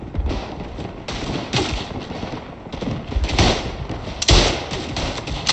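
Repeated gunshots in the World War I shooter Tannenberg, from a Japanese rifle fired by Latvian riflemen in battle, thud loudly at irregular intervals amid continuous battlefield noise.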